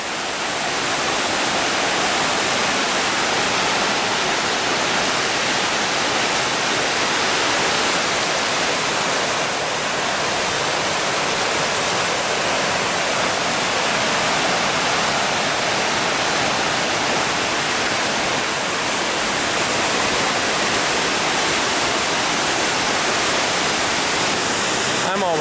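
Flowing water along the Pacific Crest Trail in Washington, a loud, continuous broadband rush that stays steady and close throughout, like a nearby stream or small waterfall, with no other sounds standing out.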